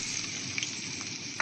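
Onions frying in hot oil in a pan for a village-style mutton curry, a close, steady, crackling sizzle that continues unbroken, with a faint stir near the end.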